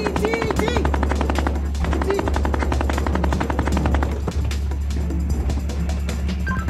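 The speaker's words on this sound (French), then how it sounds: "on me tire dessus, qu'est-ce que je dois faire?" Rapid bursts of automatic gunfire crackle during an anti-drug brigade training exercise in Africa, dense and continuous, with a low engine hum underneath and a voice briefly audible.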